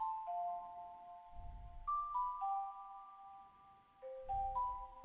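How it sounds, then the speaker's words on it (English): Bright bell tones ring out in a short melodic pattern in an RnB music sample, each note chiming and sustaining, with soft low thumps beneath some notes. "Next, I added these bells right here."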